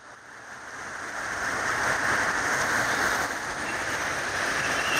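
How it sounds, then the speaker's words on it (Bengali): Heavy rain pours steadily onto a flooded paved road, a dense unbroken hiss that swells slightly and then holds at a loud, even level throughout, with no voices. "কি হারে বৃষ্টি হতেছে,"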